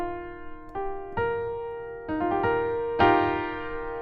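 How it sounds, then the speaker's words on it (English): A clustered add 9 chord in a pop song voicing, its tones struck in several staggered attacks that build and ring out on a sustained keyboard-like timbre, alone without talk. "that chord is called an add 9"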